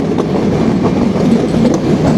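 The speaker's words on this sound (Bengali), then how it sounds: "এই মুহূর্তে কপোতাক্ষ এক্সপ্রেস ট্রেনে গতি হচ্ছে 90 কিলোমিটার।" The Kapotaksha Express passenger train from Khulna to Rajshahi runs at about 90 km/h, heard from inside a coach as a loud, steady rumble with rhythmic clickety-clack of wheels over rail joints.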